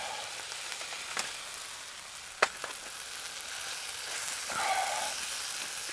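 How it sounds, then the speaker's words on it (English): Quiet, continuous sizzling and crackling of steak frying in a slightly too-small pan on a Bushbox XL stove outdoors, with a few sharper pops and light scraping. "Just don't think this frying pan was big enough for this steak."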